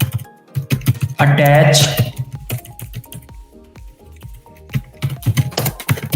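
Rapid keyboard typing runs nearly continuously for about six seconds, a steady patter of close keystrokes, with a brief spoken word over a louder burst partway through.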